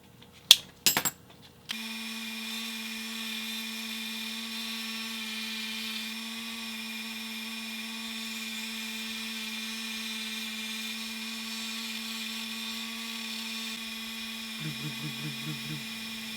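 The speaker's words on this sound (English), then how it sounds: "Marked out center on the hood, and I'm just about to drill here." A small electric drill whines steadily at a constant high pitch after a few brief clicks, drilling into the hood of a 1:64 scale model Jeep up close, with a slight wobble near the end.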